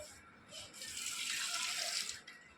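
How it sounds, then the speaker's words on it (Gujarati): Water is drained off freshly cooked rice in a village kitchen, a soft hissing pour that swells for about a second and a half and then stops, close and fairly quiet. "આપણે ચોખા હવે ઓહાવાના છે."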